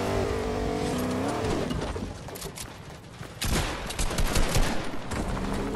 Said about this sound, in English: Oh, it's a truck.